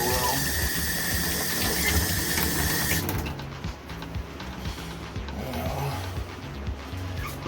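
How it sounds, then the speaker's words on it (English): Tap water runs steadily to rinse soap off a pet albino pinstripe snake, first as a loud broadband rush, then a lighter, more uneven splashing trickle with small clicks, close by and with no voices. "Try to get all the soap off of her, rinse her off real well."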